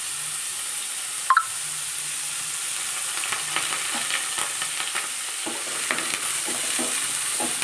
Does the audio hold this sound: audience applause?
no